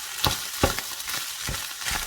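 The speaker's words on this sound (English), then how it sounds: "Hard vegetables cook for a few minutes with the meat, and now the paprika goes in." Red and yellow paprika frying with meat and vegetables in a pan, a quiet steady sizzle broken by a few scraping stirs, close and alone without talk.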